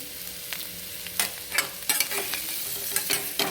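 Baby potatoes with red chili powder and turmeric stirred in a sizzling pan, a few scraping spoon strokes over a steady, close frying hiss.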